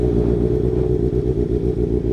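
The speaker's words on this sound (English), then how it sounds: "let's hear that exhaust for the first time" A 2025 Kawasaki ZX-6R motorcycle engine running loud and close, its exhaust burbling with a rough, pulsing rhythm throughout.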